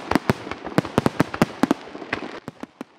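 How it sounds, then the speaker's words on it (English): Rapid bursts of fireworks exploding, sharp cracks and pops in an irregular rhythm, fairly close and loud, with no talking. "You can hear the fireworks going off, and they're in sync."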